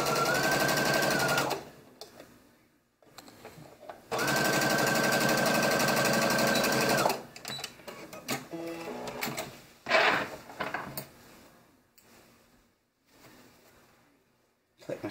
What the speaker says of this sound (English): attach my front and back pieces at the actual crotch area with a 5/8 of an inch seam